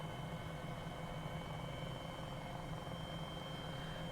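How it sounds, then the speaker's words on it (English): A steady, droning MD500 helicopter engine from the Cowansim flight simulator game hums continuously at an even level as torque rises toward overstress, with a low rotor throb and faint high whine, no voices. "But you can hear that the torque's going up and that you are overstressing the helicopter, Pony."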